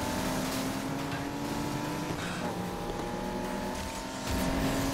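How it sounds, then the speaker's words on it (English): A race car engine in Need for Speed Heat holds a steady, buzzing drone with clear harmonic tones, dips slightly, then swells as revs climb sharply near the end; no voices. "I love the sound of this engine."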